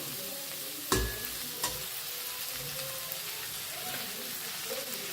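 Cluster bean curry being stirred in a pan, a soft continuous sizzle with two sharp spoon knocks against the pan early on and quieter scraping after, close and fairly faint.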